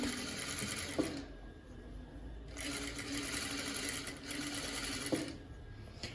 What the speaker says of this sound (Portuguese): Começa a costura da overlock